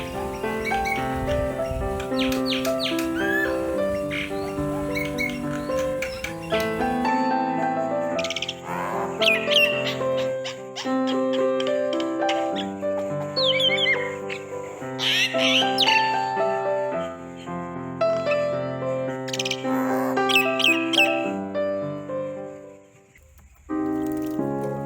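A myna bird sings and calls in varied, ringing whistles and chirps, repeated phrases coming loud and close with short pauses throughout.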